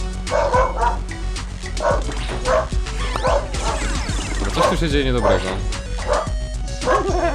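An agitated house dog yips, barks and whimpers nearby in repeated bursts, mixed with BattleBlock Theater game music while someone talks over it.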